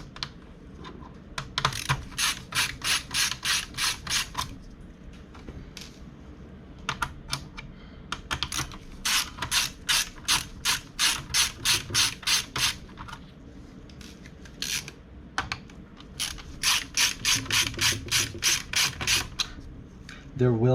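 Small screws being removed from an HP Pavilion G7-2270US laptop during a CPU fan replacement: bursts of rapid, fine ratcheting clicks from a screwdriver, repeated several times with short pauses, close and crisp.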